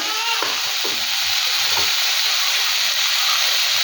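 Spices sizzle steadily in a hot frying pan, a loud continuous hiss with faint stirring scrapes near the start, close and alone with no talk.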